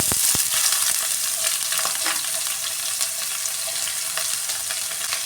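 Curry leaves, small shallots and dried red chillies crackle and sizzle loudly in hot oil for a papaya thoran, with a steady high frying hiss and a few sharp spattering pops, no voices.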